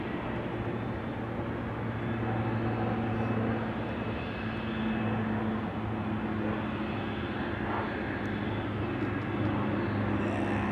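A C-17 military transport aircraft flies over an active airfield in Anchorage, its engines a loud, steady, low rumble and roar that hold at nearly constant strength for several seconds.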